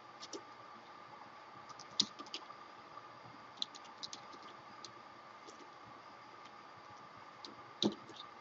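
Code being typed on a computer keyboard, scattered bursts of light clicking keystrokes with a few sharper key hits and pauses between, close and quiet over a steady low hum.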